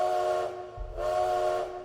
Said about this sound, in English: As the train whistle goes off, as you pull into Reno Station